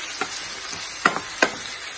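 Ginger, garlic and onions frying in a pan give a steady close sizzle, with a few sharp pops and stirring scrapes standing out over the hiss.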